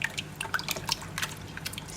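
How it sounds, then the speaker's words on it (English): Sourdough starter stirred into water in a bowl while making high-hydration bread, giving soft wet drips and liquid slaps in an irregular rhythm, close and fairly quiet, with no talking. "I'm gonna mix starter with the water first."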